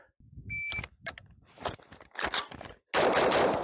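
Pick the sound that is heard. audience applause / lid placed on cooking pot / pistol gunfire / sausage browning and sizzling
pistol gunfire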